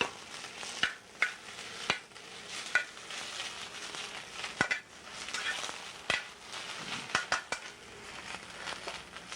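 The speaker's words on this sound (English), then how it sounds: "And fresh baby spinach. And in a warm pan, just toss this around. All I want to do is wilt it." Fresh baby spinach tossed in a warm pan as it wilts, with soft sizzling and scattered clicks and scrapes of utensils against the pan, close and steady, no talk.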